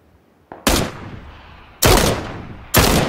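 Gunfire in PUBG aimed at distant enemies in open fields, three loud, separate shots roughly a second apart, each a sharp crack with a long fading tail, preceded by a faint click.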